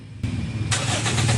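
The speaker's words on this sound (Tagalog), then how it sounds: "Pa-start ko muna itong makina." A Toyota Yaris with an unstable idle cranks and catches, then settles and rises into a louder, rough idle, heard close and alone.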